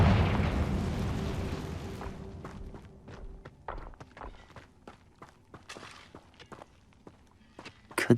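A Confringo blasting spell explodes in the Hogwarts Legacy video game, a loud booming burst that rumbles and fades over about two seconds, followed by scattered sharp crackles and pops of debris.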